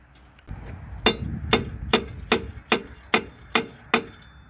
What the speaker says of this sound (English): I'm giving the starter a couple of whacks to try and free it up so that it will engage the flywheel here.